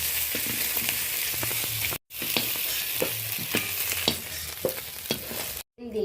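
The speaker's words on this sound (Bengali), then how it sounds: "অল্প অল্প করে কাঁকড়াগুলো ভেজে নিলাম" Red crabs from the Sundarbans frying in a wok, a steady close sizzle broken by short scraping stir strokes, with a brief gap of silence partway through and again near the end.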